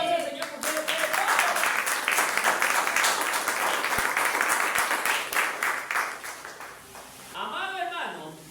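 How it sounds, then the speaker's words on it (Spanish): Congregation applauding during a Spanish-language church sermon, a lively burst of clapping building and sustaining for several seconds before fading, with a voice speaking over the end. "Denle un aplauso al Señor porque Él lo puede todo."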